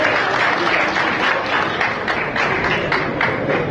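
An audience applauding a cleric performing taekwondo, a dense, steady wash of many hands clapping without a break, loud and full throughout.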